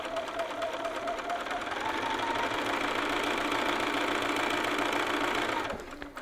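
A sewing machine stitches a dart in fabric, running in one steady, fast mechanical whir for several seconds at close range before slowing and stopping at the end.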